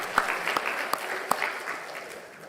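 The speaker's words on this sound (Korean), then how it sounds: "박수 한번 해드리세요." Church congregation clapping during a Korean Sunday worship service, a brief, fairly soft patter of applause with a few sharper claps, tapering off within a couple of seconds.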